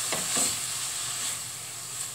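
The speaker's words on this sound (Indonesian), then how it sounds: "Kita masukkan daging ayamnya." Chicken meat dropped into a pan of frying garlic and shallots, giving a bright steady sizzle with a couple of stirring scrapes, close and continuous.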